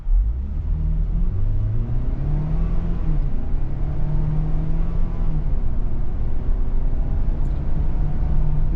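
A 2023 Ford Edge SEL AWD with an 8-speed automatic pulls away at a normal pace, its engine hum rising steadily under a constant cabin rumble, heard from inside.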